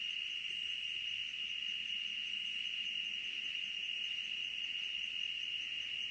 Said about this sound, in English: Yeah, it is crickets.